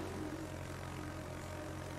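Propeller torpedo bombers flying in World of Warships, a steady droning engine hum holding at an even, moderate level throughout, fairly distant and without any talk.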